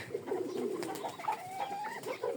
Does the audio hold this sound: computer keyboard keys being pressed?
no